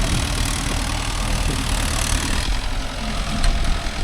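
A Mahindra Yuvo Tech Plus 585 DI 4WD tractor engine runs steadily while pulling a 5-point cultivator, a loud continuous low rumble throughout with no talk.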